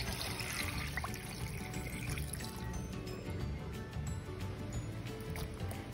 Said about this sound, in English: Add 15 cups of water.